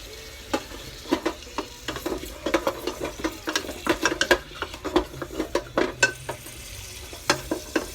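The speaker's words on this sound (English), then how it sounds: "And here's that meat sizzling." Lamb meat sizzling and crackling in a hot pot for Moroccan couscous, with dense bursts of spitting and frying and occasional stirring clatter, close and fairly loud, with no talk.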